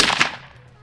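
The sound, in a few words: gunshot from .308 rifle during hog hunt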